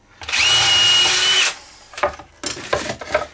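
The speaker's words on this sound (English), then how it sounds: "drill some pilot holes through" A power drill runs steadily for about a second and a half as it bores a pilot hole through wood, then winds down, followed by a few scraping, knocking handling sounds up close.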